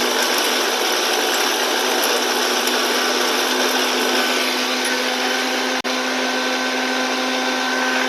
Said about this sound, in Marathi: आपल्याला पाणी न टाकता मिक्सर मधनं बारीक करायचंय